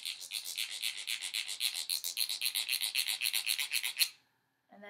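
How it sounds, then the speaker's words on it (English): A wooden spoon scraped rhythmically across the larger teeth of a comb, a steady run of about twenty rasping clicks over four seconds, loud and close, then silence. "So on the bigger toothed side, I guess you would say, my scraper sounds like this."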